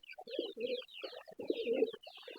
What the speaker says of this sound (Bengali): এটা হচ্ছে লক্ষা কবুতর হোয়াইট কালার